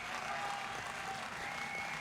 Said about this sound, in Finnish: Oi, saako taputuksia?